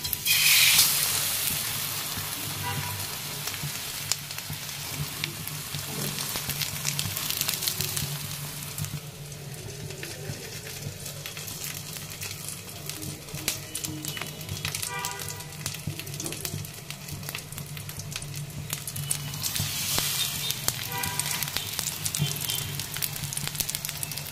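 Egg and bread slices fry in a pan with onion, scallion and green chili on a cold winter day, a steady close crackling sizzle running throughout with brief louder bursts of spatter.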